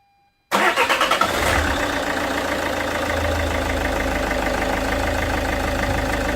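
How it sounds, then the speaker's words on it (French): A Peugeot 407 2.0 HDI diesel engine cranks briefly and catches, then settles into a steady, rough idle. The clattering diesel is close and loud, with a low rumble and no talking. "on va mettre en route le véhicule et on va lui faire une purge forcée"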